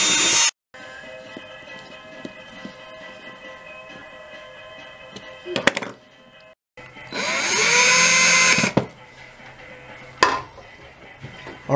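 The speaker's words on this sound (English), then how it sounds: "We're going to go around and drill holes with this little bit here." A power drill with a small bit bores holes in a tin can for a homemade microphone, heard as several close whirring bursts that spin up and stop, separated by quiet pauses, with no talking.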